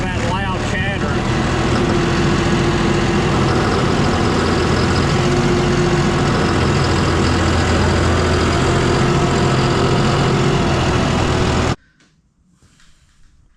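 A John Deere tractor engine with a chattering fault runs at low revs. It drones loud and steady close by, with a faint voice over it, then cuts off abruptly near the end.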